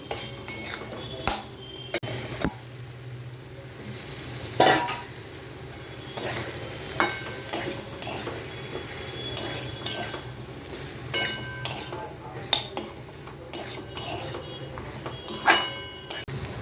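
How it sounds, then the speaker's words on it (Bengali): Fried soybean chunks and pointed gourd (parwal) stirred in a pan for a spicy soya curry. A utensil scrapes and clinks against the pan in repeated irregular strokes, close and moderately loud, over a soft background sizzle, with no talking. "এবারে এর মধ্যে দেব ভেজে রাখা সয়াবিন আর পটল"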